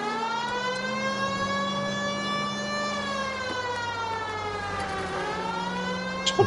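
A police car siren in a video game wails continuously with a slow, sweeping rise and fall in pitch, steady and fairly loud, with no talking.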